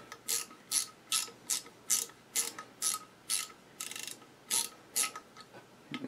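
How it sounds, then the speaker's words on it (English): Small Craftsman ratcheting screwdriver driving a screw into a tractor's feed mechanism, about a dozen evenly spaced bursts of crisp ratchet clicking, close up and isolated in a quiet room. "I'm using my little Craftsman ratcheting screwdriver."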